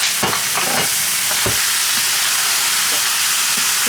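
Pork pieces frying in their own rendered fat for Filipino humba, a steady broad sizzle with a few louder crackles and pops, close and continuous with no voices.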